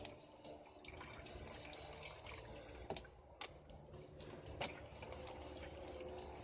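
A twin tub washing machine draining into a bathtub, a faint steady trickle and splash of running water with a few sharp clicks and knocks over it.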